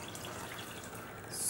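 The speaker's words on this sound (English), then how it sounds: "You're going to pour water," Water is poured into a cooking pot while making boneless chicken biryani, a steady close splashing and trickling that swells louder toward the end, with no one talking over it.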